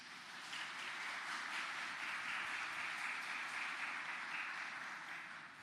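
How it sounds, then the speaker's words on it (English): An audience at an award presentation ceremony applauds the recipients, a broad even wash of clapping that swells in, holds steady and fades slightly at the end, heard fairly faint and distant. "May I invite for the recipients a round of applause,"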